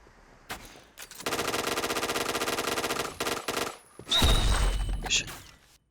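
In the video game Point Blank, a T77 rifle fires a long, dense automatic burst of closely spaced rapid shots, loud and near, followed after a brief gap by a heavier booming burst.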